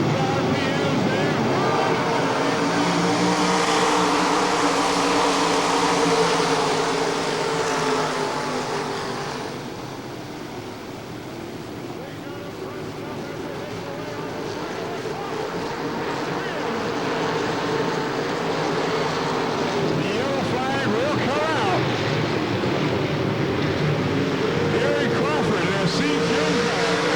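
Dirt track race cars roar around Eldora Speedway in a 1994 main event, engines droning loud and continuous as the pack comes off a corner and picks up revs, while an announcer talks over the din.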